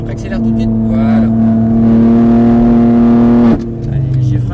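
A race car on the Mireval circuit holds a loud, steady engine note that climbs slightly under power, then cuts off sharply and gives way to a lower, quieter tone.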